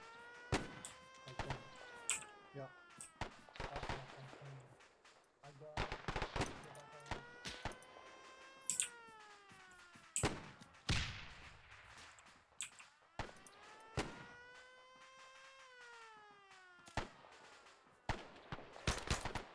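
Springfield bolt-action rifle shots ring out in a World War II shooter set on Guadalcanal, with sharp cracks repeating every few seconds amid other scattered gunfire and a steady whine of aircraft engines rising and falling.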